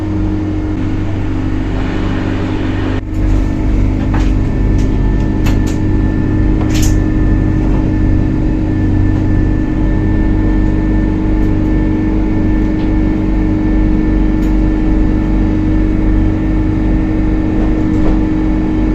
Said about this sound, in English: Every time it tilts you hear air go through this.